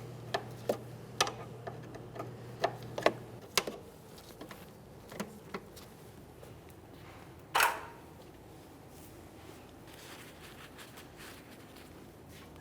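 A 10mm wrench works a rear brake hose fitting on a 2014-2019 Toyota Corolla, giving scattered small metallic clicks and ticks, close and quiet, with one louder clank partway through over a low background hum.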